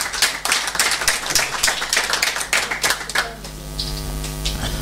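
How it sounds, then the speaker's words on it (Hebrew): A gathered audience at a Talmud tractate completion celebration claps, dense rapid hand claps that are loud and close, giving way to a sustained musical tone toward the end. "יעשו כפיים לעצמם"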